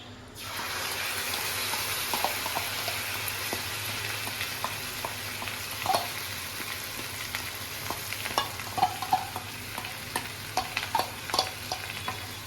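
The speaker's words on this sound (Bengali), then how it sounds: "এটা একটু কষানোর জন্য একটু গ্যাসটা আমি বাড়িয়ে নিচ্ছি" Fried spice paste for home-made butter chicken being stirred and sautéed in a pan over raised gas, with a steady sizzle under scattered scraping clicks of the spoon, close and moderately loud, no talking.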